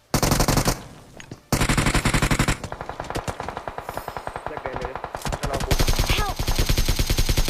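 Gunfire from behind in a shooting video game: loud, rapid automatic bursts with fast rhythmic shots, a short gap, then continued firing that sounds close and dense, with faint game noise underneath.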